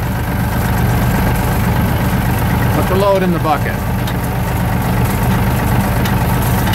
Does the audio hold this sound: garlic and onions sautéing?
no